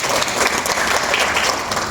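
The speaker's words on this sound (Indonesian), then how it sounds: "Tepuk tangan untuk saudara Juanda." Applause from an audience at a business community gathering in Indonesia, dense and steady for the whole two seconds, fairly loud and close with no one speaking over it.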